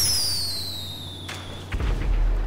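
A firework launched in Grand Theft Auto 5 online: a loud high whistle sliding downward for over a second, followed by crackling and a deep booming thump as it bursts.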